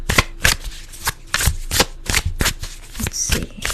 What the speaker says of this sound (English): It's going to take me a minute to shuffle some of these cards here.